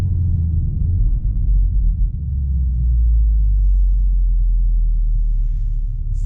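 A stock 2019 Volkswagen Golf R with a 300-horsepower engine rumbles deeply and steadily at close range, its low growl holding even before easing slightly, with no voices.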